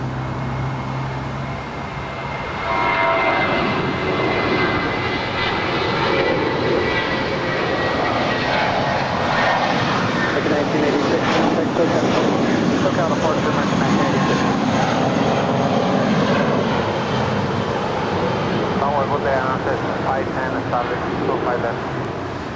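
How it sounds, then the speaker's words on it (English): Virgin Atlantic Boeing 787 Dreamliner taxiing at LAX after landing, its steady loud jet engine roar swelling after a few seconds and holding continuously, with faint background traffic. "is the Virgin Atlantic Dreamliner coming in from London, flight 7, now making her way over here on the south side after landing on 24 right"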